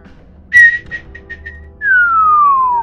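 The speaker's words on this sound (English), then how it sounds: "I got a whistle at the beginning and end" A person whistles into a microphone while playing the voice-controlled game One Hand Clapping: a sharp opening note, a few short chirps, then one long, loud whistle that glides steadily downward.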